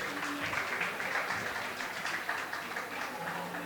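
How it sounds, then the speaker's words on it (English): An audience at a conclave fireside chat gives a dense, steady round of applause that sounds fairly distant, with no talking over it. "Can we have a huge, huge round of applause for Naiyaa Saggi, please?"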